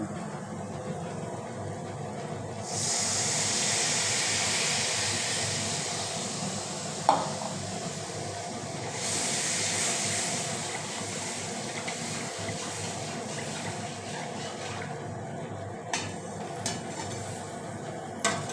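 Hot water goes into a hot pan during a bhetki fish fry, giving two loud, sustained bursts of hissing sizzle and steam, with a few light clinks of a metal spatula against the pan.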